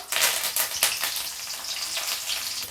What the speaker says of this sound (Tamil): கடுகு பொறிஞ்சு வந்தாச்சு உளுந்தம்பருப்பு சேர்த்துப்போம்